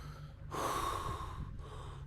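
A person imitates the heavy, labored breathing of someone sleeping at high altitude, giving one long, loud rasping breath followed by a shorter second one, close to the microphone with no talking.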